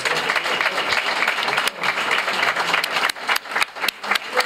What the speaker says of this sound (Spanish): Recibámoslo con un fuerte y caluroso aplauso a nuestro pregonero de este año, José María Vera Fernández.